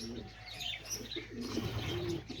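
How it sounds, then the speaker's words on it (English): Pigeons coo in a coop near a pair of white baby pigeons, with soft repeated coos and a few chirps at close range and a faint hum in the background. "right here, I have these two white baby pigeons"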